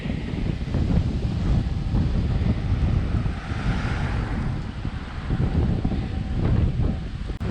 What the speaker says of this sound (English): here comes the north wind again